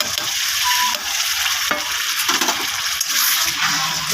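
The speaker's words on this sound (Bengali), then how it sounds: "আমি এখন মশলাটা দিয়ে দেবো।" Ground spice paste hitting a hot pan for a chicken curry, loud steady sizzling with scraping stirring strokes throughout, close and without speech.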